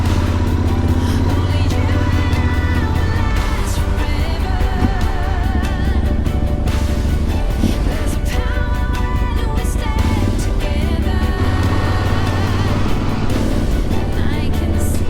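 A loud motorcycle engine drones steadily with a low rumble, accompanied by splashing and clattering as it moves through water, close and continuous.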